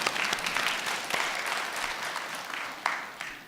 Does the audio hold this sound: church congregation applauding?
yes